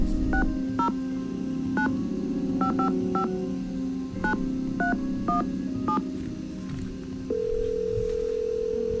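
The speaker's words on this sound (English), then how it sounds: "the first phone number we got was from Harlan, this Lewis guy, so we're gonna call that" A number is punched into a phone in the Nancy Drew: The Haunted Carousel game, about a dozen sharp touch-tone beeps in an uneven sequence over a steady dial tone, followed by a steady ringback tone, clear and close.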